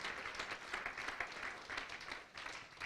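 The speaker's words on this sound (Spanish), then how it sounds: "Yo creo que Dios merece que le demos un aplauso hoy" A church congregation breaks into applause, a soft and fairly distant spread of clapping that swells and dips over a few seconds.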